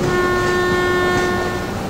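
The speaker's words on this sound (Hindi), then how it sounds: "हमारा वाईफाई लगातार हॉर्न वगैरह मार के यहाँ से डिपार्ट कर रही है" A locomotive horn sounds in a long, steady blast as a departing train pulls out in Trainz Simulator 12, loud and sustained with rail rumble beneath it and no talk over it.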